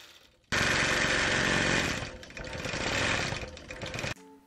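A longarm quilting machine runs and stitches for about three and a half seconds, a loud steady mechanical rattle and hum that begins abruptly, dips briefly midway, then stops sharply, with no talking.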